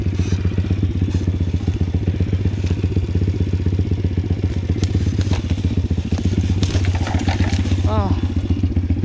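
A Pitgang 140 pit bike engine runs steadily and loud up close while ridden slowly, its low throbbing drone continuous throughout with occasional clatter and scraping and a brief rattle near the end.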